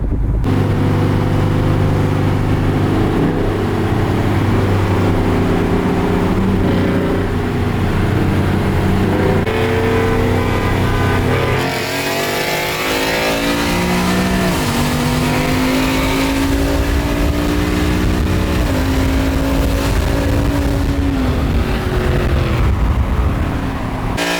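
A naturally aspirated truck races a Whipple supercharged Ford F-150, engines roaring steadily, then rising and shifting through gears as the trucks accelerate hard, loud and sustained throughout.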